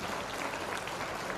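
An audience at a public gathering claps together in a dense, continuous burst of applause that fills the whole short moment without any voices.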